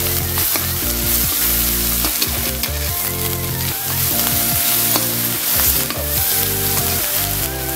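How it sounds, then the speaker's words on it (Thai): Thai red curry paste, pounded chillies and garlic stir-fried in a pan, a loud, continuous sizzle with scraping stirs, close up and with no talk. "ใส่พริกแกงคั่วลงไปหน่อยนะเพิ่มความจัดจ้านครับท่านผู้ชมนี่ครับท่านผู้ชมครับเอาลงไปผัดเลย"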